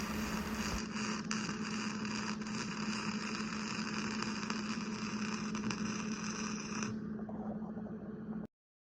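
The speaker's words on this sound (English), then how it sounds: "Just using my 110 welder with some flux core wire" A 110-volt flux core wire welder runs a bead around a loose ball joint in a garage, giving a steady, close crackling buzz over a low electrical hum that continues unbroken for about eight seconds before cutting off abruptly.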